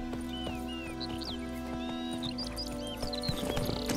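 Roach, a horse in The Witcher 3, gallops with steady clip-clopping hooves and neighs and whinnies over a droning game background, loud and close throughout.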